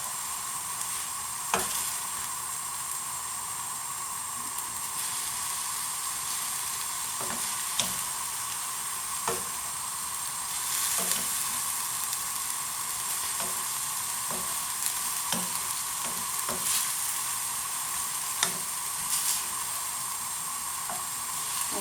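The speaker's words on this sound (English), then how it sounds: "And you can start to hear that sizzling now." Steady sizzle of onions frying fills the clip, with occasional clicks and scrapes of stirring in a pan, close up and continuous with no talking.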